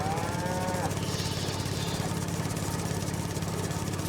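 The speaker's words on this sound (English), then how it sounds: "Just let that cow go past." A cow moos on a farm, a clear drawn-out call near the start over a steady low engine idle running throughout.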